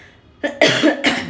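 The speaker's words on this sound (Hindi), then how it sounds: "मुझे तो खांसी भी हो गई है फिर से।" A woman with a cough, made worse by air pollution, coughs twice in a row, forcefully and close up. A quiet lead-in comes first, and there is no talk during the coughs.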